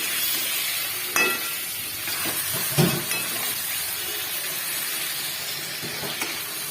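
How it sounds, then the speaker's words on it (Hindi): Marinated chicken with spices frying in hot oil, a steady broad sizzle and hiss throughout, broken by a few soft knocks from stirring; no voices. "अब ये मैरिनेट किया हुआ चिकन छोड़ देंगे इसमें और इसको अच्छे से फ्राई करेंगे।"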